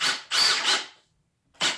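A Milwaukee M18 brushless drill/driver drives screws in short loud whirring bursts: two quick runs back to back, a pause, then another burst starting.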